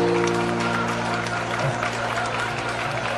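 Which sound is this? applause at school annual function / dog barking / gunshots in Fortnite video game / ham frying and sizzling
applause at school annual function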